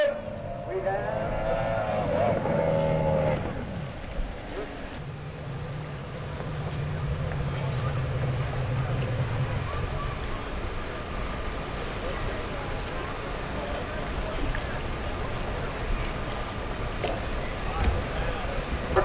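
Racing boats at a race start on Lake Tholocco, engines roaring as a loud broad wash of motor noise that swells and holds steady, with a commentator talking over it early on.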